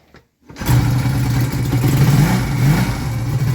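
A Honda CD 175 motorcycle engine kicks into life after a short quiet pause, then runs loud and close with a steady, slightly uneven mid-pitched rumble and small revving swells, no talking.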